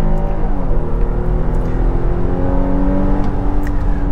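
A 2022 Nissan Pathfinder with its 3.5-liter V6 accelerates hard, the engine note rising steadily and loud throughout, close up from inside the cabin with no talking.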